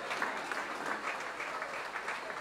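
Wedding guests clap together in a dense, continuous burst of applause, even and fairly close, with no break over its short span.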